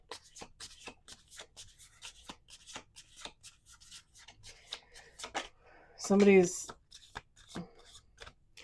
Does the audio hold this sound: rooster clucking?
no